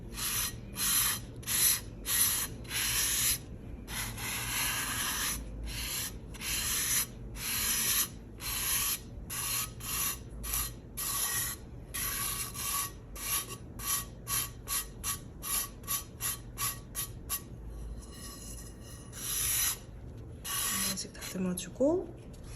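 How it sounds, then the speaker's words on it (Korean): A ceramic piece being hand-painted in blue-and-white style is smoothed and brushed in quick, rhythmic rasping strokes, dozens of short close scrubs in a steady cadence, pausing briefly near the end. "대부분 매끈한 상태일 거기 때문에 한 번씩 싹싹 다듬어 주세요"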